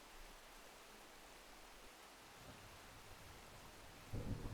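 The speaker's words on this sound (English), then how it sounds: "I hear rumbling in the distance." Low, steady rumble of distant thunder at a campsite at night, rolling continuously through the clip under a wash of rain-like noise, swelling louder in the final half second.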